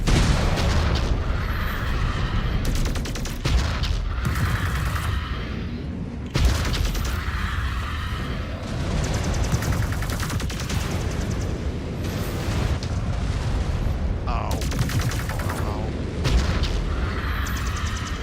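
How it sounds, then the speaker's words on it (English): Mech weapons fire and explosions destroy turrets in the MechWarrior 5 Clans video game, heard as heavy repeated booms and blasts, with loud dense bursts continuing throughout. "Oh, we've got to shoot the turrets on this bloody thing."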